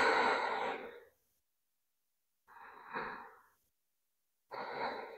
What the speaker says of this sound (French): on va déjà faire quelques inspire-expire avec l'abdomen